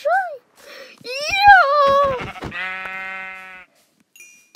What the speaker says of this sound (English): Sheep. I just found a sheep. You are the first sheep!